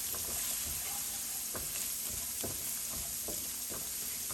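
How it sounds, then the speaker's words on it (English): Chopped onions fry in a pan over a medium gas flame for palak dal, a steady soft sizzle with occasional light taps and scrapes of a spoon, close and quiet, with no talk. "we'll fry these onions till they are translucent or transparent"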